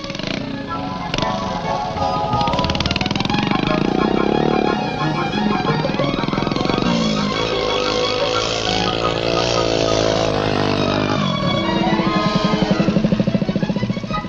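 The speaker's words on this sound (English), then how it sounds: "Here he is after riding for only 4 months on a miniature 50cc scrambling bike built by his father" A tiny home-built 50cc scrambling motorcycle with three gears rides through a muddy gravel pit, its small engine buzzing loudly and steadily up close, with revs rising and falling as it rides, in old 1967 film footage.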